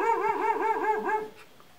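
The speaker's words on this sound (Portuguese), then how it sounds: "tá o cachorro chorando, chorando, chorando, chorando, chorando" A dog whimpers and cries in a rising and falling wavering whine, several pulses in a row, close and fairly loud, then trails off.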